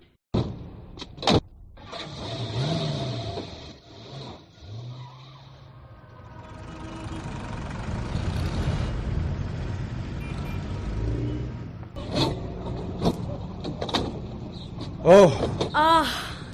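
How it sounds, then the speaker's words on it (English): Cars crawl through congested city traffic, engines idling and rumbling up close, with horns, a passing siren-like wail and occasional sharp bumps; moderate loudness, shifting as vehicles move nearby. "The traffic is killing. Look, so many cars."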